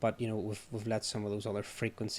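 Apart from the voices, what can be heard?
No distinct noise like a dog, phone or traffic.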